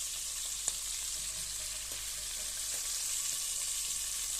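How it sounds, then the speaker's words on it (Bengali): Chicken pieces frying lightly in a pan of oil, a faint, even sizzle that runs steadily throughout. "মুরগিটা সুন্দর করে হালকা করে ভাজা নিব"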